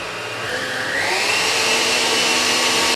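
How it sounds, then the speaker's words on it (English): An electric hand whisk beating sponge cake batter made without wheat flour, a steady loud whirring drone that rises slightly in pitch and holds for a few seconds with no talking. "Give it another whisk."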